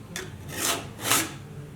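A 10-inch second-cut file strokes across the edge of a cabinet scraper during sharpening, making two rasping pushes close by, each swelling and fading, with no talk.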